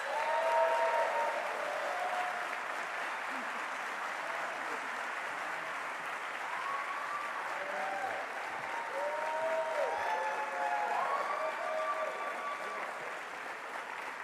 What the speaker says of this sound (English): So let's bring him to the stage to thunderous applause